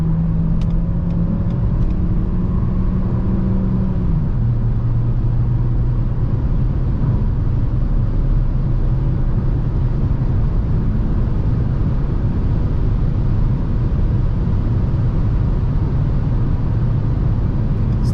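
A 2023 Renault Captur E-Tech 145 full hybrid accelerates hard at night on rough asphalt, a loud steady engine and road rumble from inside the cabin, with one clear drop in engine pitch early on as it shifts gear.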